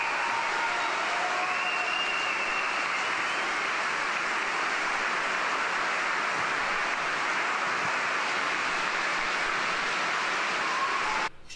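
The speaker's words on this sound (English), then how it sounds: "Thunderous applause for Philip Willen." Sustained, even applause from a gathering at a Buddhist monastery, a dense wash of clapping that continues unbroken and then cuts off abruptly at the end.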